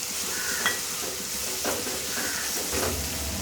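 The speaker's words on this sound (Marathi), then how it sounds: "वाटण हे आपण 2 मिनिटांसाठी चांगलं शिजवून घेऊया" Malvani masala paste (vaatan) frying in oil with softened onion and tomato, a steady close sizzle with a few stirring scrapes of the spoon against the pan.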